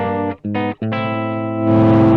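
An electric guitar played through a Crazy Tube Circuits distortion pedal rings out in a few sustained, heavily saturated chords, loud and close, with the last chord swelling brighter and fuller.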